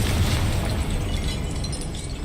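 A fiery Confringo spell explosion in the Hogwarts Legacy game, a sustained loud, rumbling burst with heavy low-end roar that stays dense and continuous throughout, with no talk.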